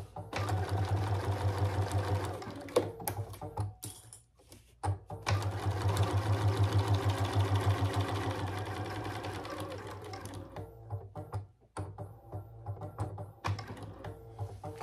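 A sewing machine stitches through clear vinyl in bursts of rapid, buzzing mechanical rattle, stopping and starting several times, with brief quiet handling pauses between runs.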